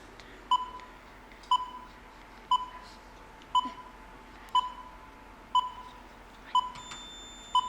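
Short electronic beeps repeat at a steady one-per-second pace, ending in a higher, longer tone, like a quiz buzzer against a faint hiss.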